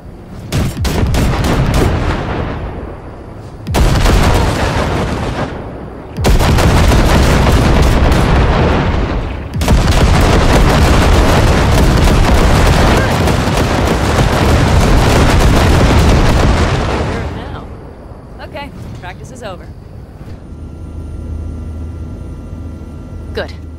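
Basilisk hovertank cannon fire in Cyberpunk 2077 blasting wrecks: loud, dense bursts of booming blasts and rapid gunfire in long sustained stretches, broken by brief pauses, then fading to a quieter hum with scattered impacts.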